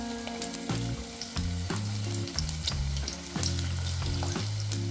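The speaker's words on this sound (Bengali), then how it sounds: "সজনে ফুলের বড়া একদিক ভাজা হয়ে গেছে" Drumstick flower fritters fry in hot mustard oil over a medium flame, a steady crackling sizzle running throughout beneath louder stepped tonal music.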